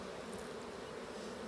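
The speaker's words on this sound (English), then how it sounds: "Just need to get in amongst all these bees" Honeybees swarm around an open hive in a steady, close buzzing hum that stays loud and unbroken, with no speech over it.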